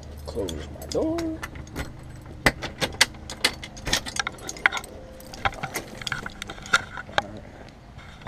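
Metallic keys for a 1993 Honda Accord coupe jingle and clink in short bursts, close by, with a few scattered taps and rattles between them.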